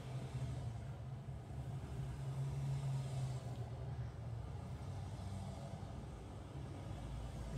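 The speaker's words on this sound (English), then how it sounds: "there's so many cars, bro" A Trump motorcade of many cars drives past in a continuous low rumble of engines and tyres, steady and fairly close, with no talking.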